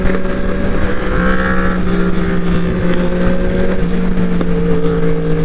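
A 2020 Yamaha R1 fitted with an Austin Racing GP1R exhaust runs loud and close, its engine drone shifting pitch as it rides, with sharp crackling pops breaking through the steady roar.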